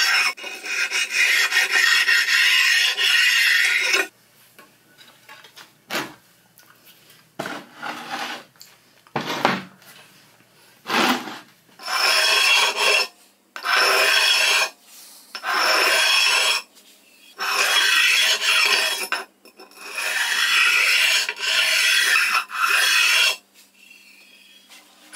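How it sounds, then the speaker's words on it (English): Bed faces of a 7x12 CJ0618 lathe being stoned by hand: a continuous rasping rub, then repeated rhythmic strokes of about a second each with short gaps, close and fairly loud, no talk. "so I'm stoning the faces more directly."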